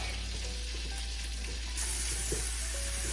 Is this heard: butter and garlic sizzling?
yes